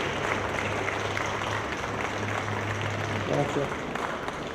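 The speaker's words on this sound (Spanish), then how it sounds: "Un aplauso, por favor, creo que se merece." Audience applause fills a hall at a panel event, a steady dense clatter of many hands with a low hum underneath and a voice speaking over it near the end.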